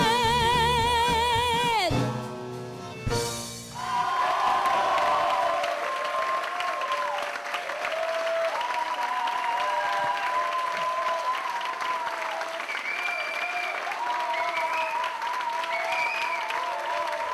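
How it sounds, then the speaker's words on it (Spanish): An audience applauding after a cabaret song at a concert, steady clapping that swells after the music cuts off and then continues while a keyboard plays soft chords underneath. "Fuerte un aplauso para el maestro"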